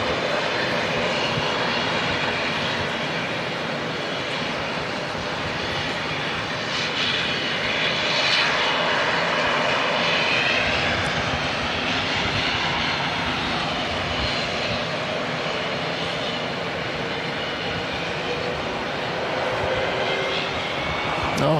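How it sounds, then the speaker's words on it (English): A noisy Air Chathams ATR turboprop airliner at Auckland Airport roars steadily and loudly throughout, its engine drone sustained and close with a broad rumble and whine, and no pause in the noise. "it's a noisy Air Chatham's ATR that we can hear"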